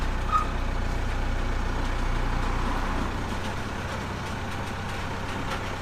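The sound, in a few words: JCB machine coming off the HGV trailer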